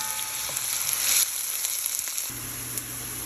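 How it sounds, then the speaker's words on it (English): Onion and carrots frying in olive oil, a steady close sizzle with a few scraping clicks of a utensil throughout, no voices. "We'll add the onion and the carrots and cook for 3-4 minutes"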